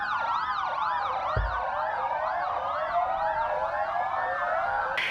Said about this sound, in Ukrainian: центральною вулицею міста проїхала колона спецтранспорту з увімкненими проблисковими маячками та сиренами